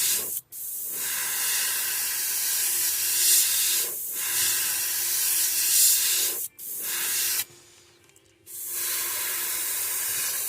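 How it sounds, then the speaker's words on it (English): An airbrush sprays sepia paint onto a fishing lure in short hissing bursts, several long sprays separated by brief pauses, close and steady. "we'll just spray this sepia"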